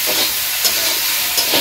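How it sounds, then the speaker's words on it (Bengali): Vegetables sautéed and stirred in a pan during Bangladeshi village cooking: a steady, fairly loud hiss of frying with a couple of brief stirring scrapes. "সবজি ভালো করে কষিয়ে নিই"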